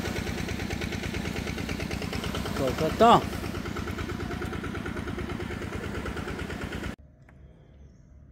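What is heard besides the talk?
tractor engine running on an island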